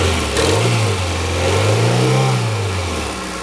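Honda Integra Type R engine revving up and down nearby, a rising and falling drone that swells through the middle and eases off at the end, with no talk over it.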